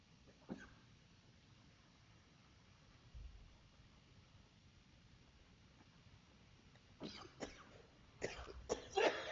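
A quiet room with faint background hiss, a soft cough early on, then a cluster of harsher coughs building near the end.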